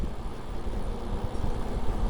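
Gusty wind on a windy roadside day buffets the microphone in a dense, steady low rumble with small fluctuating surges, loud and close throughout the brief moment.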